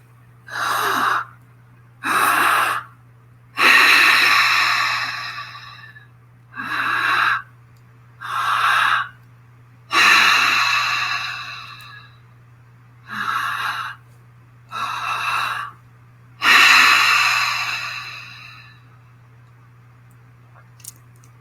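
Guided breathwork session of deep belly-and-chest breaths, heard as about nine close, airy inhales and exhales in a steady rhythm, each separated by short pauses, with no talking.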